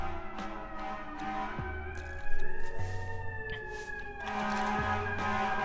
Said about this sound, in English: so you're gonna hear some sirens every so often